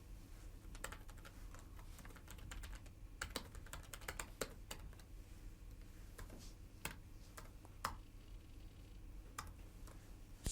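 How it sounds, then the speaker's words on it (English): Steady typing on a computer keyboard in an office, a quiet continuous patter of key clicks with occasional louder taps over a low background hum, no talking. "carry on typing just for a minute or so"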